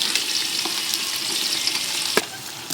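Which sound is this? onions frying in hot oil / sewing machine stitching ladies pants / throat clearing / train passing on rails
onions frying in hot oil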